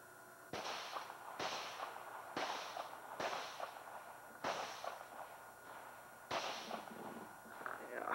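Loud gunshots from outdoor target shooting in Maine, six sharp reports spaced irregularly over several seconds, each with a short echoing tail, no talk between shots.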